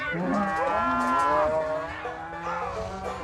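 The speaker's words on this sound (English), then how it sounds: "The cows are not too impressed." Limousin and Angus cattle moo loudly and close at a farm, giving several long, drawn-out, overlapping calls with no talk over them.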